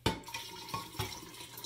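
Water runs steadily from a tap to fill a new fish tank, a continuous splashing rush with a few brief louder gushes, close and alone.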